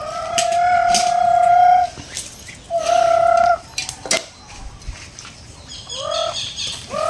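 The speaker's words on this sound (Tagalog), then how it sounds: "may alagang pato dito" Loud honking calls of domestic ducks sound close by, long drawn-out cries followed by shorter quacking bursts, with no talking.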